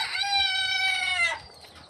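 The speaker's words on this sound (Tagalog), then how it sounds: "Ito mga manok, oh." Chickens on a date farm: one loud, drawn-out, strongly tonal crowing call lasting over a second, near and clear, then fading into quiet farm ambience.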